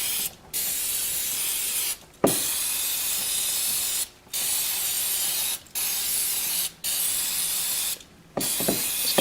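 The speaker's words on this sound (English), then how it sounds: "It's just some brake clean that I have here." Aerosol brake cleaner sprayed onto CF Moto motorcycle parts in five long, loud, close hissing bursts, each about one and a half seconds, separated by short pauses, with faint clicks between them.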